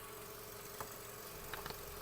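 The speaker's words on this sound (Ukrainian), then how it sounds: "Двигун працює гарно" A Volkswagen Golf 6 engine idles steadily with a low, even hum and faint mechanical ticking, heard close and quiet.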